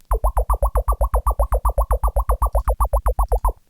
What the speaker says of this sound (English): I put some phaser on it just for some character, and then I added delay